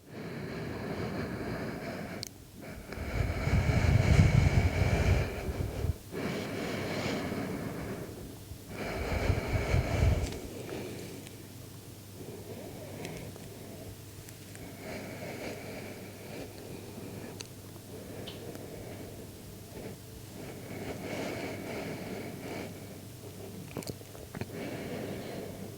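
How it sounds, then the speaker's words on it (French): Long, slow breaths drawn in and out during a morning vinyasa yoga session, with a few loud breathy swells early on, then softer steady breathing against a quiet room. "Prenez 5 longues respirations ici."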